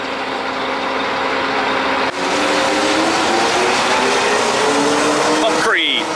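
Heavy 11-yard concrete mixer truck engine idling at a concrete pour, a steady loud rumble with shifting drone tones throughout, a brief dip near two seconds and a rising whine at the end.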